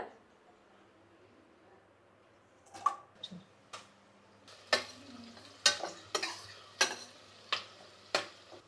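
Onions frying in oil in a pressure cooker, with soft sizzling and a series of sharp stirring scrapes and clinks against the pot, about one every half second, after a quiet start.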